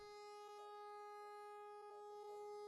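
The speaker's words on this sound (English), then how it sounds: "Tornado sirens." A tornado siren in the indie game Chirk sounds as a steady, sustained electronic wail, faint and distant-sounding, with a layered tonal drone holding evenly throughout and no talking.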